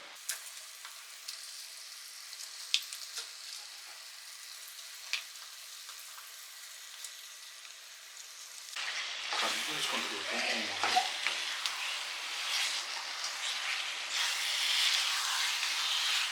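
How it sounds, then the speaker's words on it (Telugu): Chicken pieces tipped into a tomato gravy cooked down until the oil separates, a steady close sizzle rising after a quiet stretch, with stirring and scraping in the pan. "ఇప్పుడు మనం ఇందులో చికెన్ యాడ్ చేసుకుందాం."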